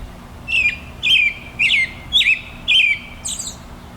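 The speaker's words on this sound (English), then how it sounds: "That bird is actually sitting on a branch watching me." A bird perched on a branch repeats a bright warbling call six times at an even pace, close and clear over a quiet background.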